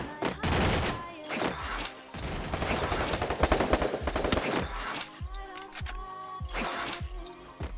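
Rapid bursts of gunfire in the video game Free Fire, dense overlapping shots and automatic rattles filling most of the stretch, with a few separate sharp reports near the end.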